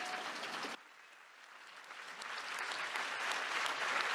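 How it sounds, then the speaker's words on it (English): An audience at a FIFDH 2024 film festival screening applauds the filmmaker, a dense burst of clapping that cuts out briefly and then swells back, sustained and fairly loud. "I think you can also applaud the filmmaker."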